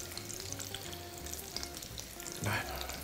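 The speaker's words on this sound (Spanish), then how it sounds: "van a manchar menos el aceite y se van a freír mejor" Meatballs frying in hot oil in a pan for a rice and meatball soup, a steady crackling sizzle throughout with a louder burst of spattering near the end.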